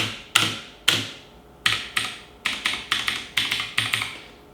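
Crisp clicky keystrokes from a MARVO KG934 TKL mechanical keyboard, a few separate presses followed by a quicker run of taps, close and clear with no talking.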